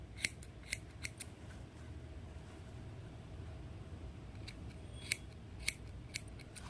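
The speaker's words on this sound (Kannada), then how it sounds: "ಎಲ್ಲ ಥ್ರೆಡ್ನು ಸೇರಿಸಿ ಟ್ರಿಮ್ ಮಾಡ್ಕೊಳ್ಳಿ" Scissors snip thread ends on a silk saree, a handful of sharp, separate clicks spaced irregularly over a steady low background hum, close and fairly quiet.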